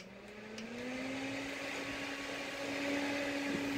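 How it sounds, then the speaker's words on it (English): A small electric fan whirs steadily at close range, used to dry freshly applied makeup, its motor hum rising slightly in pitch as it spins up and then holding constant with no talking. "So we're just using a little fan"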